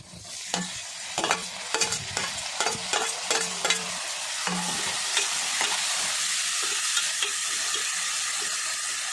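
Tomato frying in a pan with onion and dal for an okra curry: a rapid run of scraping spatula strokes over crackling oil, then a steady unbroken sizzle. Close and fairly loud, with no voices.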